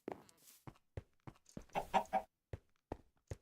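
Chickens clucking in Minecraft, a steady series of short, clipped clucks at an even pace with a brief louder flurry midway, close and clear with no talking.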